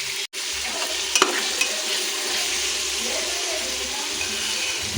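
Chopped tomatoes fry and sizzle in an oiled pan for chicken biryani, a steady close hiss broken by a few scraping stirs and clinks of the spoon against the pan, with no talking.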